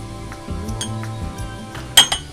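Sugar spooned into a tea cup, soft scraping and light tapping of a spoon against china, ending in one sharp bright clink near the end, close and alone.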